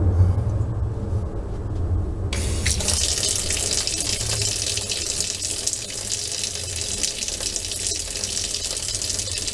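Hot water from a Vevor 8 kW tankless heater gushes steadily out of a faucet into a sink, a constant close rushing stream that surges louder after a quiet opening moment.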